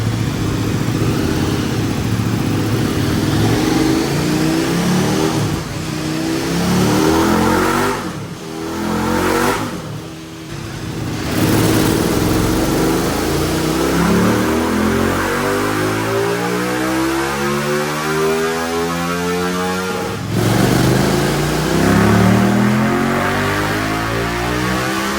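A 2024 KTM 1390 Super Duke R Evo motorcycle screams on a dyno, rising through repeated loud, close high-revving pulls with brief drops in between.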